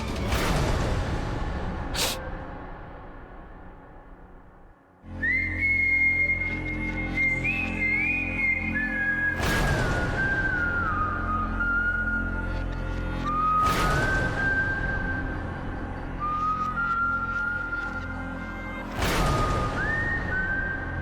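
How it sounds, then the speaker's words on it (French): A person whistles a wavering melody in clear, sustained notes, with occasional sharp rushing swooshes breaking in at intervals. "Qui est-ce qui est en train de siffler ainsi?"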